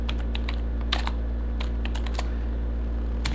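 Keys clatter on a computer keyboard in quick irregular clusters of clicks, close and fairly crisp over a steady low electrical hum.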